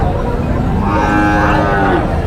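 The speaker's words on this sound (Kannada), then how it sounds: "ಅದಾವಲ್ರಿ ಎತ್ತು ಅದಾವು" Bulls at a livestock market low loudly and close by in a sustained, continuous moo with almost no talk over it.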